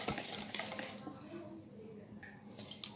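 A spoon scrapes and knocks around a bowl while semolina, flour and milk batter is mixed, soft clinks and stirring under quiet room noise.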